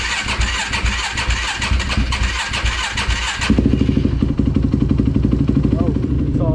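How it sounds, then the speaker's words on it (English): A quad ATV that has sat unused for a long time cranks with a rapid churning starter, catches after about three seconds, then settles into a loud, close, steady idle. "because the quad just sits for so damn long, usually I forget to start it and it doesn't turn on"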